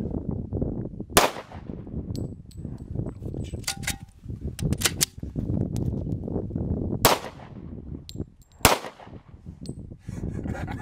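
Glock pistol shots ring out from behind a rifle-rated mini shield, a few sharp cracks spaced irregularly among quieter rustling and handling noise.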